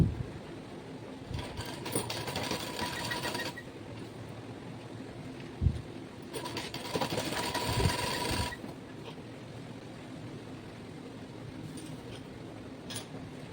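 A sewing machine stitching cloth for a lungi runs in two steady bursts of rapid whirring, separated by quieter stretches of low background hum, close by.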